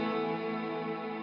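A sustained electric guitar note swells into a dense, shimmering wash of ambient reverb that hangs steadily with no decay, alone with no voices.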